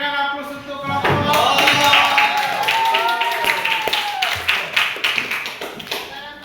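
Applause for a student group in a classroom, a steady spread of claps lasting several seconds with voices talking over it.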